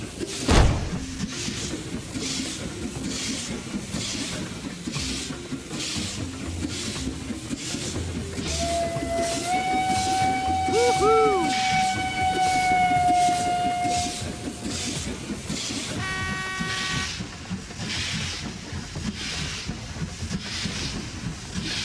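A cartoon steam train from a kids' dinosaur train racing game chugs along in steady rhythmic puffs, with a sustained whistle tone sounding midway, loud and continuous with bright game effects near the end.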